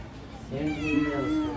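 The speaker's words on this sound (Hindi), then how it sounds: "बिल्ली तो गाइस बिल्ली आ गया" A cat gives a single drawn-out meow close by, rising and wavering for about a second, with no one talking over it.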